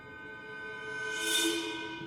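A programmed snare drum sample processed into a snare bomb swells as a quiet, airy hiss that builds for about a second and a half, peaks, then fades, with nothing else around it.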